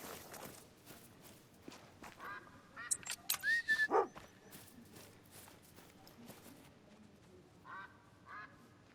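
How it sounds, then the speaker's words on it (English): Wigeon ducks calling overhead in the Scottish outdoors, a handful of whistling calls clustered in the middle and a couple more near the end, fairly faint over rustling and footsteps. "Widgeon everywhere above us."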